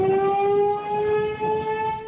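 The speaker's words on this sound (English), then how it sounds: "A warning siren still blaring, even with car windows blown out and that building damaged." A steady, wailing tornado warning siren holds a sustained tone, loud and continuous throughout, with faint rumbling noise underneath, amid storm damage in Menasha.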